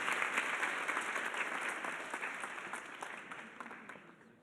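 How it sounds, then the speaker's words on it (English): An audience claps after a heart-to-heart talk, a dense, even wash of applause that stays fairly quiet and distant, then fades out toward the end with no talking. "I clap for you as well."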